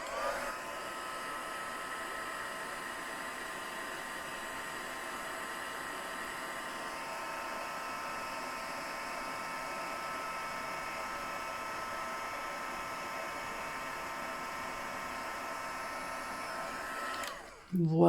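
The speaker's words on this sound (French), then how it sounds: "Et le pistolet chauffant." A heat gun blowing steadily to dry embossing on a handmade greeting card, a constant whooshing hiss with a fan whine, close and loud, running unbroken for about seventeen seconds before cutting off into a clatter.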